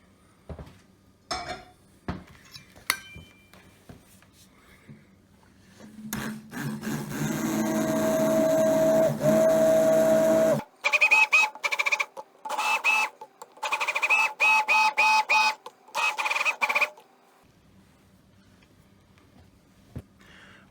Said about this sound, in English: I'm just going to mix the coffee with the protein powder without milk, just to show you what the immersion blender will do to it